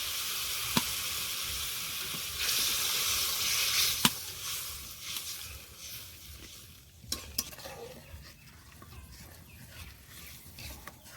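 Water is added to a pan of sizzling fried spice paste for an egg curry with spinach, giving a steady close hiss and sizzle with stirring scrapes and a few sharp utensil clicks; the frying quiets slightly toward the end.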